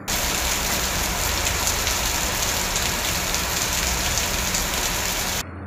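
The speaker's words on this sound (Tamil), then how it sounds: "2 மணி நேரத்திற்கு மேலாக விட்டுவிட்டு மிதமான மழை முதல் கனமழை பெய்து வருகின்றது" Moderate to heavy rain falls on a suburb of Puducherry as a steady, dense hiss that holds at an even level for over five seconds before dropping off abruptly at the end.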